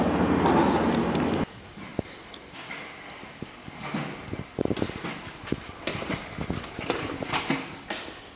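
Horse hooves clip-clop in irregular, close knocks after a loud noisy burst at the start, with faint background sound between the steps.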